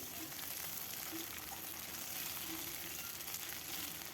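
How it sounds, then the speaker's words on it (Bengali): Cut potatoes frying in oil with onion and green chilli, giving a continuous quiet sizzle and faint crackle, even throughout with no voices. "আলুটা দিয়েও বেশ কিছুক্ষণ ভেজে নেব।"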